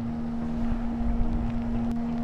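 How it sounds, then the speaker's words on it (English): Strong wind on stormy Lake Brienz in Switzerland, a steady low rumbling roar with buffeting microphone wind noise and a constant hum, close and continuous throughout with no talk. "Wow, it's so windy."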